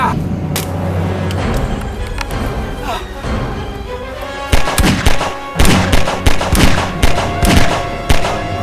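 Bursts of gunfire from a magic-versus-time battle scene, a rapid series of loud cracks and booms layered over shouting and action noise, growing denser in the second half.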